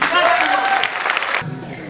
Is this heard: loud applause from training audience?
yes